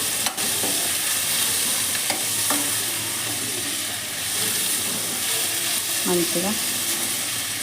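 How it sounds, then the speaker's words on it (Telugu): Potato and cauliflower fry in oil with a close, hissing sizzle while being stirred, with scattered scrapes and clatters of the spoon and a single brief spoken word. "మొత్తం అన్నీ కలిసేటట్టు ఫ్రై చేసుకుందాము"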